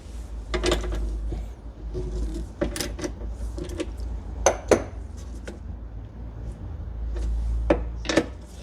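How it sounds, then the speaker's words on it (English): Tools work on the tailgate bolts of a BMW 540i under repair, with a low steady hum beneath scattered close metallic clinks and clanks at irregular intervals. "And now I'll unscrew the bolts."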